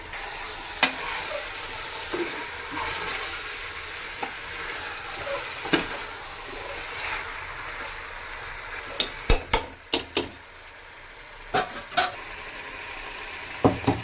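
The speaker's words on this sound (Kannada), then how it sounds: "ನೋಡಿ ಚೆನ್ನಾಗಿ ಫ್ರೈ ಆಗಿ ಎಣ್ಣೆ ಎಲ್ಲ ಬಿಟ್ಟಿದೆ" Masala frying in oil for a festive home-cooked dish, a steady low sizzle with periodic spatula taps and scrapes, then a cluster of sharper clanks against the pan near the end.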